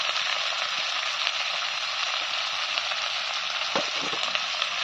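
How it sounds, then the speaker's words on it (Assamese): Meat fries in a pan over a coal fire outdoors, giving a steady mid-level sizzle with scattered small crackles and no voices. "মাংস একদম ধুনীয়াকৈ ভাজি আছে দেই"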